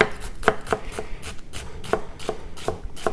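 A Hado Sakai Sumi 210mm gyuto in white steel slices through an onion on a cutting board, about a dozen crisp, evenly spaced chops close up.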